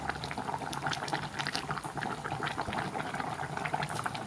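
Pork bones boiling in a pot of water for a clear bitter melon soup, a steady close bubbling and rolling simmer that fills the whole moment without any talk.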